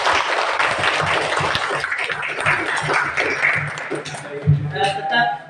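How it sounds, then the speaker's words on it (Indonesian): Students applaud after a speech in a school debate on the death penalty for corruption, a continuous patter of clapping mixed with voices, growing looser with chatter toward the end. "Beri tepuk tangan dulu kita semua."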